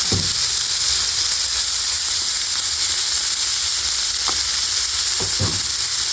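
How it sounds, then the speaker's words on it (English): Cabbage and noodles sizzle in butter and oil on a flattop griddle, a loud, continuous close hiss with a few faint scrapes of stirring underneath. "I'm going to get a little sizzle"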